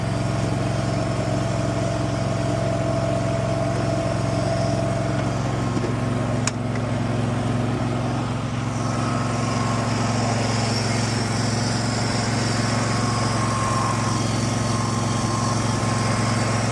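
A Cub Cadet ZForce zero-turn mower engine runs steadily at a close, even idle, a constant low drone with a faint tick midway; the mower has weak hydrostatic drive with no reverse and leaks oil around the valve covers.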